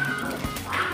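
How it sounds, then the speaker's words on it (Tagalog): A dog barks and yelps angrily on a residential street beside a covered court, a short harsh outburst heard close over steady background noise. "May kumakalpang aso."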